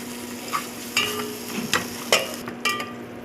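Lamb meat frying in a pot, a constant sizzle punctuated by several distinct scraping strokes and clinks of a spoon stirring against the pot at a slow, irregular pace.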